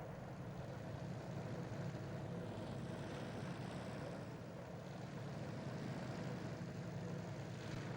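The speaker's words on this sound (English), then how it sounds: "This is a P-47 testing counter-rotating props." Steady, faint droning of a P-47 propeller aircraft fitted with counter-rotating props, a continuous low hum and buzz heard from a distance with no pauses.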